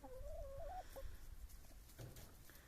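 Half-grown chickens that still make chick-like peeping calls, with a clear high-pitched trill followed by softer clucks and scratchy movement in a backyard coop, heard alone at low volume.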